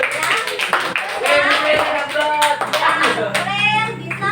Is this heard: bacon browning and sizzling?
no